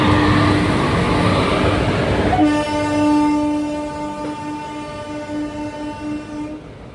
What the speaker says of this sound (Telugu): క్రాసింగ్ అయితే పడేసారు ట్రైన్ అయితే వస్తుంది